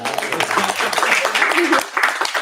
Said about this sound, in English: I get to clap every time that's awesome.